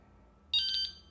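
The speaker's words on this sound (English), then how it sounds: "you just heard my Wahoo Element beep" A Wahoo Element bike computer gives a single bright electronic beep tone, lasting about a third of a second, sounding close and clear over quiet room background.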